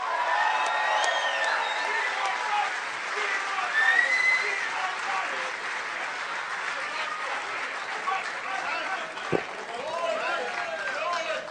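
A large crowd at an outdoor political rally in Lawrenceville, New Jersey applauds steadily, dense clapping mixed with scattered whoops and shouts, sustained throughout at an even level.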